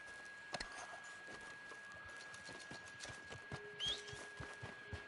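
Horse hooves in the video game Red Dead Online, a series of irregular clip-clop steps on the ground, moderately close, alongside faint game ambience and a brief whinny-like cue.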